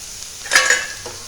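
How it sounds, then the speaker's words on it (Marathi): Wet grated radish tipped into a hot iron tava, giving a brief burst of sizzling and a soft scrape against the pan, then a quieter simmering hiss. "तर हा मुळा टाकून घेऊया आपण याच्यामध्ये तव्यात"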